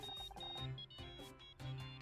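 A phone rings in the Murder by Numbers video game, a faint, repeating electronic tone that pulses in steady bursts.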